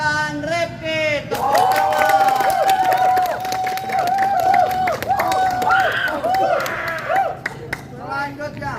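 Audience at a school candidate-introduction event claps and cheers steadily for candidates number 1, a sustained crowd roar with whoops lasting several seconds, with a voice speaking at the start and end.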